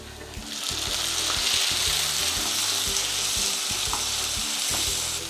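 Tomato hits hot oil in a pan with a loud, steady sizzle and crackle, stirred with occasional soft knocks of a spoon, close by and without speech.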